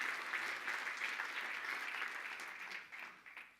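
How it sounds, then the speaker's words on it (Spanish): A church congregation applauds during an evangelical service: a steady, continuous wash of many hands clapping together, fairly faint and distant, holding even for several seconds before tapering slightly at the end. "Dele fuerte nuevamente el aplauso a ese Dios todopoderoso."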